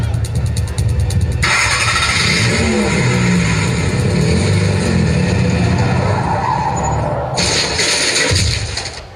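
A motorbike engine roars and revs hard with a skidding screech, loud and close, while a voice shouts over it in a dramatized street scene.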